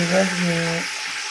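Ginger garlic paste, about a tablespoon, hits hot oil in a pan while cooking beef nihari, giving a loud close sizzle with a bubbling hiss that settles and thins toward the end.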